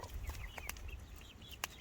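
Chickens, including Delawares, give a few short, faint clucks and chirps in the background, brief and unaccompanied by talk.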